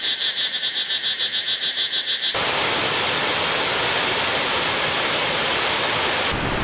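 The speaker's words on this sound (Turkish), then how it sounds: "Fena değil, güzel bir şelale." A waterfall in Dalat, Vietnam roars as a dense, steady rush of water, loud and close, after a brief opening of pulsing, chirping background sounds.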